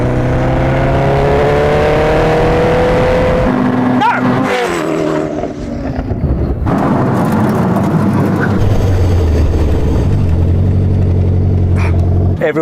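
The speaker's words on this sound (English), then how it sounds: "We're going to do a brake test now." Koenigsegg Jesko and a supercharged Suzuki Hayabusa on a brake test run, loud engine roar with pitch shifting as speed changes, a brief dip midway, then sustained engine drone, with people talking over it.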